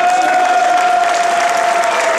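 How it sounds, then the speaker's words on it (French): A crowd at a tournament prize-giving claps for a team, dense and loud applause that runs evenly from start to end with a faint tone under it. "Merci d'accueillir et d'applaudir"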